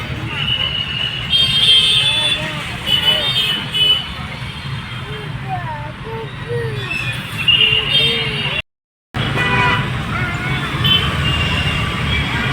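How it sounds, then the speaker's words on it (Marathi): City road traffic in Pune, with a constant low rumble of engines, repeated car horn toots near and far, and voices over the street noise before a brief dropout to silence. "पुण्याचं ट्रॅफिक"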